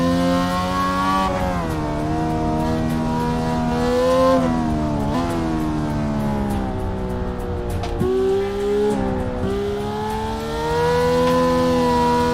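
A car engine in the racing game Assetto Corsa revs high and loud throughout, its pitch climbing and dipping with the throttle in a steady, buzzy whine, with no talking over it.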